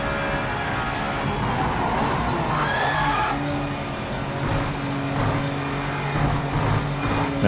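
Race car brakes squealing in the Project Motor Racing video game: high, thin tonal squeals sliding downward over a steady engine drone, with a lower whine emerging as the car slows.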